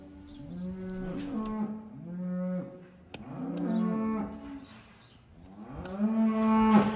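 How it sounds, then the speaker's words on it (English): Cattle waiting at a hoof trimming low repeatedly, several long drawn-out moos one after another, clear and fairly close, with rising and falling tones and little else around them. "That's not this cow mooing, by the way."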